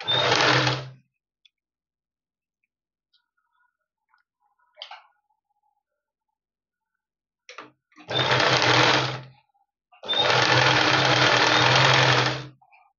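A sewing machine stitches a cross strip onto a blouse in three close, loud bursts of rapid mechanical whirring, the first short and the last two longer, separated by quiet pauses with faint handling clicks.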